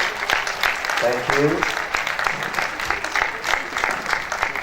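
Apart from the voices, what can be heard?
applause at assembly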